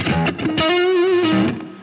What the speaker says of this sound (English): So crank up that distortion to 12.